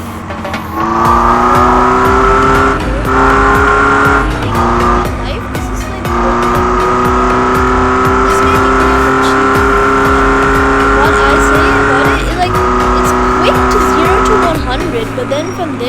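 A Ferrari F40 supercar drives hard, with a loud, strained engine whine that holds and shifts pitch several times and tire noise underneath, close to the listener, with a voice talking over it.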